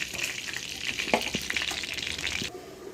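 Hilsa fish frying in oil in a pan, a close bright sizzle with scattered pops and crackles that drops away abruptly near the end, leaving a quieter background.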